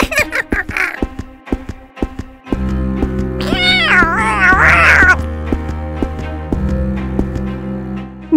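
A cat meows several times, near and clear, with short plaintive calls in the middle, set against a steady background hum and brief tapping at the start.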